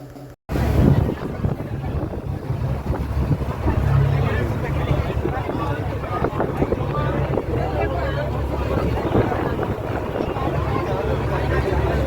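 The passenger boat's engine drones steadily and loudly at Kanyakumari, a constant low rumble mixed with wind buffeting the microphone, while people talk over it.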